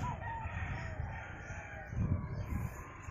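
A dark-legged bull stag rooster crows faintly at a distance, a soft drawn-out call over quiet background hiss.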